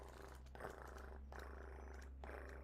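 A human voice imitates a cat's purr, a low, steady rumbling drone that comes in three continuous stretches with short breaks between them, close and fairly quiet, with no other sound around it.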